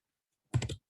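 Short burst of typing on a computer keyboard, a quick cluster of three or four close, crisp key clicks lasting under half a second, heard alone with no talk.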